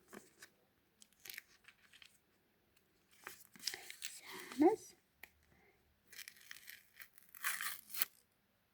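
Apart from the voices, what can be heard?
paper surprise packet being torn open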